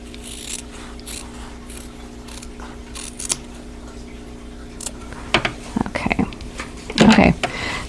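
Scissors trimming fabric for an applique table runner, several soft snips and rustles that grow louder near the end, with a faint steady hum in the background.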